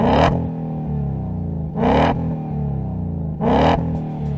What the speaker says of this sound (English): This will provide that deep signature MagnaFlow tone while dampening total exhaust sound levels